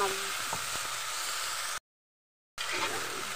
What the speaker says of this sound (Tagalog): Haluin natin ito ng mabuti para medyo brown na